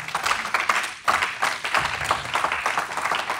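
A church congregation claps together to acclaim the Lord, a lively close burst of many hands clapping fairly steadily, briefly dipping at one point before continuing.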